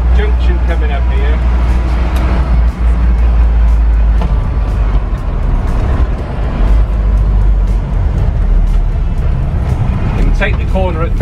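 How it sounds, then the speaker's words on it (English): A Bedford CA van drives along with a steady, loud engine drone that dips slightly as it slows to change gear, and someone talks over the road noise throughout. "But I'm going to slow down and get into 4th because we got a junction coming up here."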